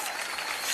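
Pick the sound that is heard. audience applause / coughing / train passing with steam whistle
audience applause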